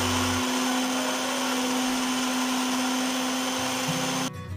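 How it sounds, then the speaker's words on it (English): A mixer grinder blends mashed sweet potatoes with coffee and chocolate milk, a loud, steady motor whir with a constant hum that runs unbroken for several seconds before cutting off abruptly near the end. "Now transfer them into a mixer grinder jar. Add coffee and chocolate milk to the mashed sweet potatoes and grind well."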